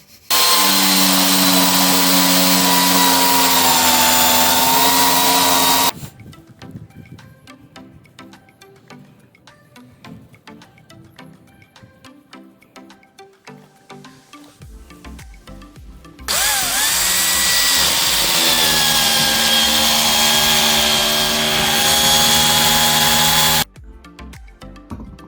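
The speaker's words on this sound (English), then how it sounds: "we've successfully drilled our first hole in the side of the van" A power drill bores a hole through the side wall of a horsebox van in two long loud whining bursts, with a quieter stretch of rattling and handling between them.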